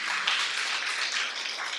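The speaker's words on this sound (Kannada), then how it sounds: "ಶಿಷ್ಯರಿಗೋಸ್ಕರ ಶಬ್ದವಾಗಿ ಚಪ್ಪಾಳೆ ತಟ್ಟೋಣವ" Audience clapping at a church sermon for the disciples, a dense, steady wash of many hands applauding together, loud and continuous throughout with no pauses.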